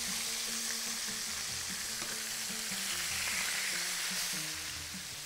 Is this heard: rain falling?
no